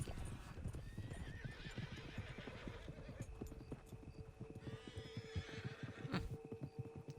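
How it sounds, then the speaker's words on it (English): A group of four or five wild horses in Red Dead Online, hooves clip-clopping in a rapid gallop with several whinnies and neighs over the running, fairly close. "Rather large group of wild horses there."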